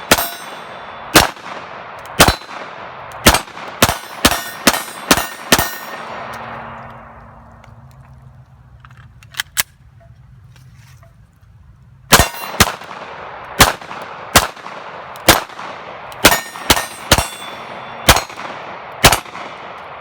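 CZ P-07 polymer-frame pistol firing a string of sharp, loud shots, about eight in quick succession, then a pause of several seconds before another rapid string of around nine shots, no talking.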